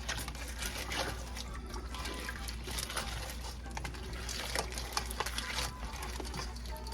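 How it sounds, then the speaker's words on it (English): Rice, crab stock and land crab jueyes pieces get mixed in a pot, giving soft wet squelches and clatters of shells and legs shifting, close and quiet over a low background hum, with no voices. "Now I'm going to add all the jueyes, legs, arms. Now we're going to give it a mix."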